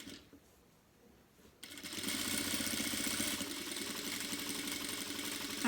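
A domestic sewing machine topstitches a seam on a fabric car trash bag, kicking in abruptly after a moment of quiet and then running steadily at a fast, even hum.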